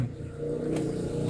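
A car engine idles steadily up close, a continuous low rumble with a faint mechanical clatter and no talk over it.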